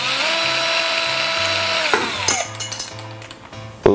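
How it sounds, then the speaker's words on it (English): A power drill whines steadily as it spins a cement mixer part fitted with plastic spoons, the motor pitch shifting and dropping before clattering bumps and a final loud knock. "I'm using this power drill."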